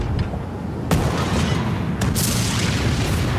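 Cannon fire at a target in the pirate naval game Skull and Bones, played at DreamHack Hannover: two heavy booms about a second apart, each followed by a long rumbling roar that fills the whole stretch.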